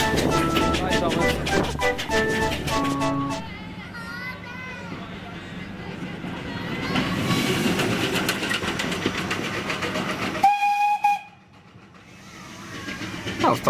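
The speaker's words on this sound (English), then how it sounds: "That was Thomas the Tank Engine." Thomas the Tank Engine train sounds, with a chugging engine, tonal whistle-like blasts and busy rumbling under a voice, ending in a clear short whistle toot after a sudden drop to near quiet.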